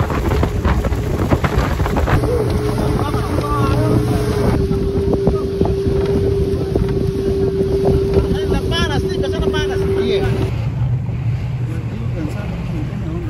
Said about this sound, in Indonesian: dapat dicapai dengan menaiki perahu motor dari dermaga kecil dekat dengan Pantai Losari